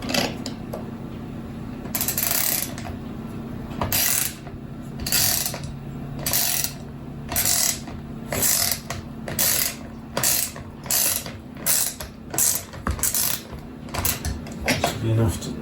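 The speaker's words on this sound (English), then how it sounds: "see if we can find a nice little middle ground here where both the ratchet and the socket will go together" A ratchet and socket are turned in a battery assembly, giving repeated bursts of sharp clicking strokes in a steady back-and-forth rhythm, close and loud, with a voice speaking in between.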